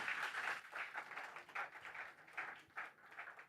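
Faint, distant applause from a conference audience, with scattered claps rising and falling in uneven bursts for a few seconds.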